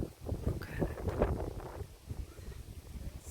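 Gusts of wind beside open water in a botanical garden buffet the microphone in soft, uneven low rumbles, rising and fading over a few seconds at a quiet level.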